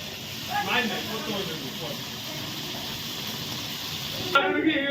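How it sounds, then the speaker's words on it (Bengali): Potatoes frying in hot oil, cooked in two batches for a tangra fish chorchori made for a crowd, give a steady broadband hiss and sizzle throughout, with brief voices near the start and a louder burst of sizzling near the end. "এবার আলুগুলো ভেজে নেব দুইবারে ভাজা হবে"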